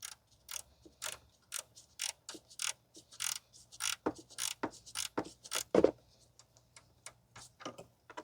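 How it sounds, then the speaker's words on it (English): A 10 mm ratcheting wrench works a bolt near the AC line in the engine bay of a 2005 Toyota Corolla 1.8, giving a steady run of close, sharp ratchet clicks in quick bursts with no talking. "so you're able to move the ratcheting wrench. It's a 10 millimeter once again."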